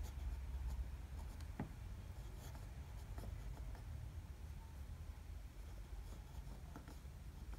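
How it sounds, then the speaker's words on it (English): A Butterknife Creations Orion fountain pen's wet nib drawn across paper, faint close scratchy strokes in short bursts with brief taps, quiet and alone. "drawing the pen across the page in a right-handed fashion, still very smooth, very, wet"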